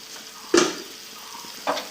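Water poured into a hot pan of spinach and rohu fish curry, a short sharp hiss and sizzle with a second smaller burst a moment later, close and moderately loud.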